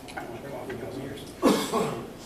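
A single short cough bursts out after a stretch of quiet murmuring, close and fairly loud, fading into a brief throat sound.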